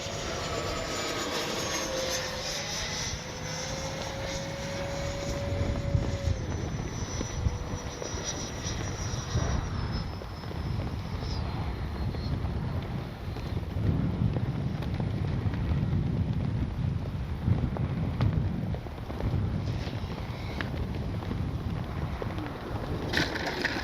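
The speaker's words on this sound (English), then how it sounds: "this jet is a 70mm size jet that they slapped an 80mm in." A Freewing Mirage RC jet, a 70mm-class airframe fitted with an 80mm ducted fan, whines and roars overhead, its pitch sweeping as it passes and fades, with wind buffeting the microphone.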